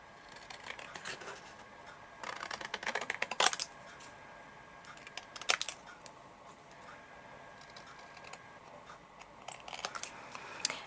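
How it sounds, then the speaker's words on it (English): Long-bladed scissors trim around a piece of dark brown cardstock, producing short bursts of crisp snipping and sliding clicks up close, separated by quiet pauses. "trimming around it with our long bladed pair of scissors."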